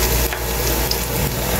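Garlic fries in well-heated oil at the start of cooking squid adobo in coconut milk. It makes a brief, steady, close sizzle with a dense hiss and faint stirring scrapes.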